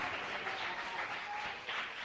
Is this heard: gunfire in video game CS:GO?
no